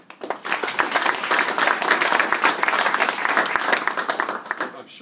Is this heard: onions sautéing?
no